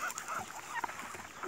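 Ducks being fed, a few quick nasal honks and quacks close by over faint background noise in a brief moment.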